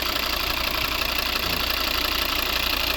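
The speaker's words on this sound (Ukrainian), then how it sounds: "Ось робота двигуна." A 2010 Volvo XC60 2.4 D3 AWD diesel with automatic transmission runs steadily at idle, a close, constant engine drone with no talk.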